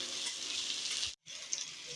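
Okra sizzles steadily in a hot pan with a bright, hissing crackle that cuts out for a moment, then resumes.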